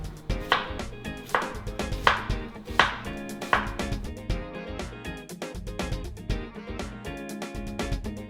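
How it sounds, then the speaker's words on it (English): A knife slices through half a red onion on a cutting board, giving a series of sharp, close chopping taps in a loose, repeated rhythm, with no one talking. "So the first thing we're going to do is we're going to slice half a red onion."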